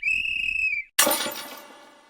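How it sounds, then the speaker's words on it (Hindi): A single steady whistle blown at night in an Indian neighbourhood, held loud for nearly a second, then cut off and followed by a sharp burst of breaking or clattering noise that fades away. "ये सीटी चौकीदार ने नहीं बजाई थी, ये यश था।"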